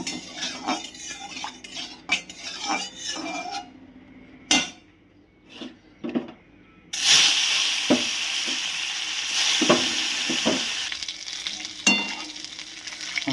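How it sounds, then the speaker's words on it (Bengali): Marinated snakehead fish (shol) hit hot oil with a loud, close hiss that keeps sizzling. Metal utensils clatter and scrape against the pan before and during the frying. "এদিকে তেলও আমার গরম হয়ে গেছে, এবারে মাছগুলো ভেজে নেব"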